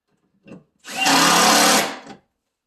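A single short burst from a power driver runs a screw into a wooden base cabinet rollout, close and loud, preceded by a faint brief click.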